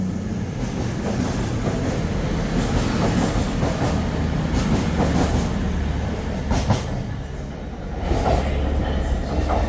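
A train rolls steadily through Newcastle station, loud and close, with rumbling wheels, rhythmic clickety-clack over rail joints and a brief squeal, and no voices over it.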